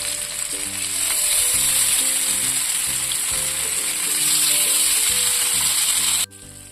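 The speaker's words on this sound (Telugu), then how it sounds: "ఆ తర్వాత కాతున్న నూనెలో వేసి వేయించుకోండి" Fish pieces fry steadily in hot oil over a medium flame, a dense continuous sizzle with crackling held loud and close for about six seconds before dropping off abruptly at the end.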